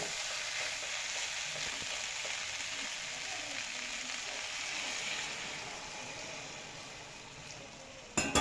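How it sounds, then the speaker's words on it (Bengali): Hot water poured into jackfruit curry frying in a pan gives a steady, close broadband sizzle and bubbling that holds for several seconds and fades slightly, with a brief clatter at the end. "এখন আমি এর মধ্যে দিয়ে দেব গরম জল।"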